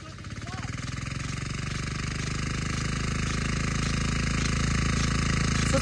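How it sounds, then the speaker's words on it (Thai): Diesel water pump engine revving up toward full throttle while driving a 2-inch sprinkler head through a 3-inch, 30-metre delivery hose; a steady, loud mechanical drone with a rising pitch and strong harmonics, with a voice briefly audible at the start. "เริ่มเร่งเครื่องแล้วนะคะ"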